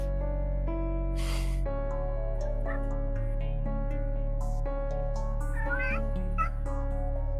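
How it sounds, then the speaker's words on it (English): A cat named Max meows several times, clear and fairly close, over a steady background hum with no talk. "Is that a cat?"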